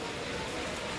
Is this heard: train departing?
no